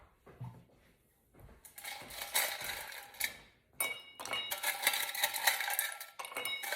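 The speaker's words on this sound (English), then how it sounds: "Then we're going to put in some ice." Ice cubes clatter and clink into a cocktail glass in bright, irregular bursts, several loud rattling pours separated by brief pauses, close and without talk.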